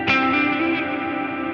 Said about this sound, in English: huge reverb, big pre-delay, and really limiting the high end